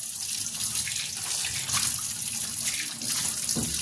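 Running tap water splashes steadily into a sink while a fish, dalagang bukid, is washed beneath it, a close continuous gush with small shifting splashes and no talking.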